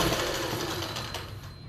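A sewing machine runs steadily while stitching the lining of palazzo pants, its close, continuous mechanical whir holding an even pace for a short stretch with no talking.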